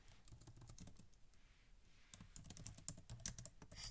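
Fingers tap steadily on a computer keyboard while someone types web page content, quiet close-up clicks with short pauses and faster bursts, no speech.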